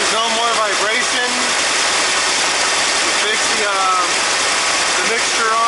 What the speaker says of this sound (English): So now that everything's idling correctly, so when you give it gas, it'd be nice and even all around.